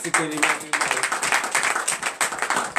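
A church congregation at a morning prayer service in Benin claps steadily in a brisk, even rhythm, many hands close together, with voices speaking and calling out over the clapping.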